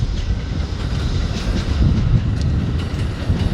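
Amtrak passenger train running daily from St. Paul to Chicago rolls slowly along the rails at about 15 mph, a steady broadband rumble of wheels and cars close by with no voices.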